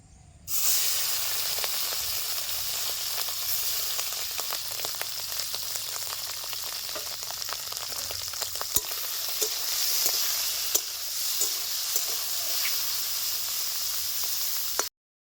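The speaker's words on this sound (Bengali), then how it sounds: "তেল গরম হয়ে গেছে, মাছগুলি ভেজে নিচ্ছি।" Gutum fish coated in turmeric and salt frying in hot mustard oil, a steady dense sizzle and hiss with scattered sharp pops and crackles, close and continuous throughout with no talking.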